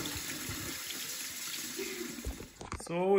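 Tap water runs steadily into a cold bath used to cool down fishing reels, a soft continuous rush with faint background voices, then ending in a sharper splash and a squeak near the end.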